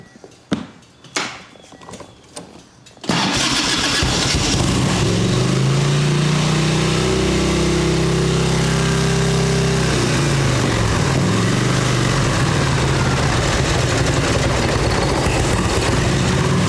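A 1989 Harley-Davidson Ultra Classic Tour Glide with a freshly cleaned carburetor and the choke on cranks over briefly, then fires and settles into a loud, steady, rumbling idle that holds close and constant.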